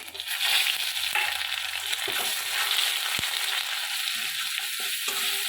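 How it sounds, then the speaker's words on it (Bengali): Spice paste of ginger, turmeric, cumin, coriander and chilli powders frying in oil for a jackfruit curry, a dense, loud, continuous sizzle with a few soft stirring taps, close and without speech. "ভালো করে মশলাটাকে কষে নেব"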